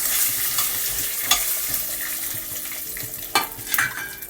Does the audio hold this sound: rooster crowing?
no